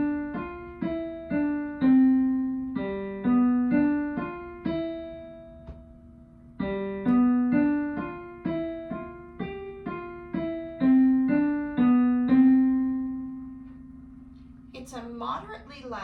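Moderately loud piano piece, played smoothly with the thumbs sharing middle C, two bass and treble phrases separated by a short pause. The notes are soft and steady, and a brief rustle follows at the end.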